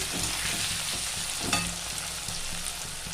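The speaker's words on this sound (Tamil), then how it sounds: "இப்போ வெங்காயம் வதங்கட்டும்" Onions fry in a pan as the base for an okra tamarind curry. The sizzle is steady and moderately loud, with a few soft stirring scrapes and a brief clink midway, and no voices.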